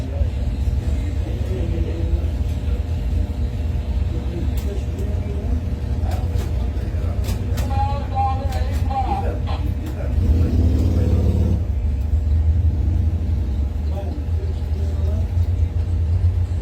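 Drag racing doorslammer cars rolling up to the start line at a test and tune event, a loud steady engine rumble with idling and light revving throughout, while an announcer speaks over it.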